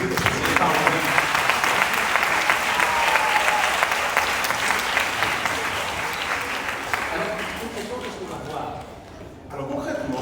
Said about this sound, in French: Je vous demande quand même d'applaudir parce que vous n'avez pas entendu.